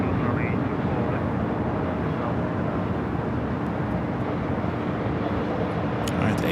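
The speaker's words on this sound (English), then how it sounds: "the A380 Super will now cross over 24 left" An Airbus A380 crossing runway 24 left at LAX gives a steady, broad, far-off jet engine rumble that holds evenly throughout, with faint radio chatter beneath.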